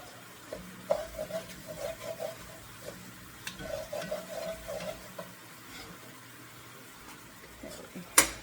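Rice toasting with aromatics in a pot, stirred with a series of rhythmic scraping strokes over a soft, low sizzle, closing with a sharper clank.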